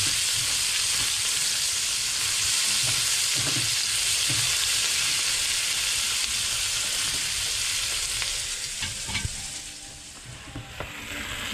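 Ginger, onion and garlic sizzle in hot oil on a roadside cart stove, a loud, steady crackling fry that runs throughout and eases slightly near the end.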